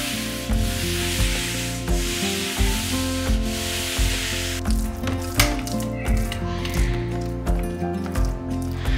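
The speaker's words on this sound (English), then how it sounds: "I sanded down the walls again to get rid of any mistakes" Painted interior walls being sanded down by hand, the close, scratchy rubbing strokes repeating in a steady rhythm roughly once a second throughout.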